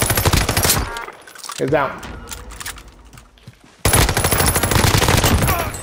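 Rapid automatic gunfire in an online shooter match, dense stuttering bursts at the start and again after a short pause, with a player talking in the gap between the volleys.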